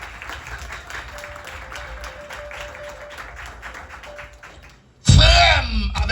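A church congregation bursts into loud applause and cheering for God, sudden and dense after a quieter stretch of murmuring and faint tones.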